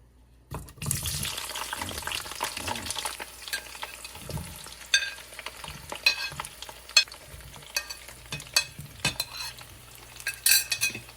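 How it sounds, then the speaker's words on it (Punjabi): Capsicum pieces fry in ghee in a kadhai with a steady close sizzle, broken by repeated scraping and clinking as a spoon stirs the pan, and no talking. "ਇਹਨਾਂ ਨੂੰ ਆਪਾਂ ਥੋੜੀਆਂ ਜਿਹੀਆਂ ਘਿਓ ਦੇ ਵਿੱਚ ਫਰਾਈ ਕਰ ਲਵਾਂਗੇ"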